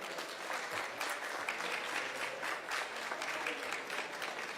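Steady, dense applause from a conference audience for speakers on stage at an event about investments at the Cernavodă nuclear plant, continuous and moderately distant throughout with no voices over it.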